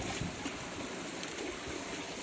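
A shallow, rocky river in a remote spot flows with a steady, faint rushing and trickling wash that holds even throughout, with no voices.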